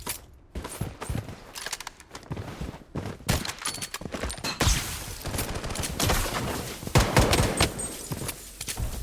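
Rapid gunfire bursts from the battle royale shooter Bloodstrike, fired with Glock pistols and an M700 rifle, crack repeatedly and loudly over dense battlefield clatter and footsteps, with irregular volleys filling the whole stretch.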